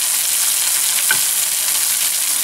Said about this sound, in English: And then do the basting. Lift your pan so that way it doesn't overcook.